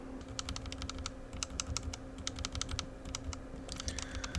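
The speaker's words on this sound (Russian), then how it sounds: "все, что я хотел сделать, это саунд-тест этих свитчей, чтобы они были на ютубе, чтобы люди могли их послушать" Steady, rapid typing on a keyboard fitted with OUTEMU Silent Peach switches: soft, muted key clicks in a quick irregular rhythm, close up, over a low background hum, with no voices.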